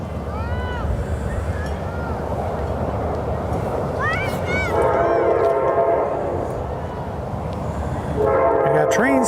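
A train rolls past a youth baseball tournament final game, its horn sounding in several wavering blasts over a steady rumble of rail cars, with voices and crowd noise underneath.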